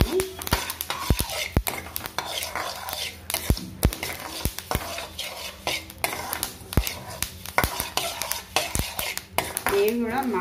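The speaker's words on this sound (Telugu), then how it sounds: "ఇప్పుడు మనం అవిసెలు వేయించుకుందాం. ఇవి కూడా మంచిగా ఇలా వేపుకోవాలి." Flax seeds dry-roast in a pan as a spoon keeps stirring them, making steady scraping and clinking metal sounds close by, with a faint voice now and then.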